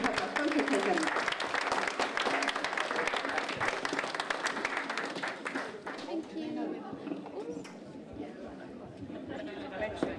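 Sustained applause from the audience at an art society's anniversary exhibition fills the room, dense and steady for several seconds before thinning out, with chatter and voices mixed in as it fades.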